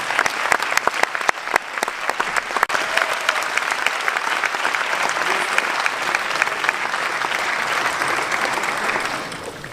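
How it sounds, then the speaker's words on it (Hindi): An indoor business training meeting applauds the speaker Rajesh Kumar Paswan with loud, dense clapping that starts sharply and holds steady for about ten seconds before easing slightly at the end, with no voices heard. "जोरदार तालियां राजेश पासवान जी के लिए।"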